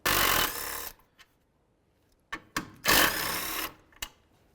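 Power tool on the radiator bolts of a 2015-2019 Hyundai Sonata, two loud whirring bursts about a second long each, separated by quiet gaps with a few sharp clicks.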